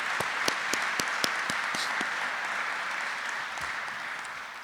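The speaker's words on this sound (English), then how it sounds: "Join me in a round of applause for the Garrison team" An audience at a US Army Garrison change of responsibility ceremony applauds the Garrison team, with a steady wash of clapping from a crowd and a few sharper nearby claps early on, slowly fading.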